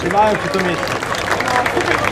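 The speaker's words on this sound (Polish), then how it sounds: "Brawa dla pani." An outdoor crowd at a hop and wicker fair welcome ceremony in Poland claps for a greeted guest, a steady patter of applause mixed with crowd babble, with a person talking over it at the start.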